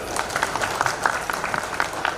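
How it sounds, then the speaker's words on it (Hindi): Applause for Khalid at a Mumbai Congress transport cell team declaration event, a crowd clapping in a steady, moderately loud patter with rhythmic peaks, fairly close and continuing throughout without clear talk over it. "इसके लिए खालिद भाई के लिए ताली बजाया जाए जोरदार"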